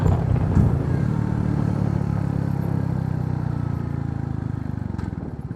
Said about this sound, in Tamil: இப்போ நான் செகண்ட் கியரில் பைக்கை நிப்பாட்டிடுறேன்.